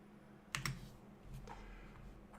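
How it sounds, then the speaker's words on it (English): Keystrokes on a QWERTY computer keyboard, a close cluster of sharp clicks followed by a few softer taps over a low steady hum. "now that I've been typing a lot on my QWERTY keyboard"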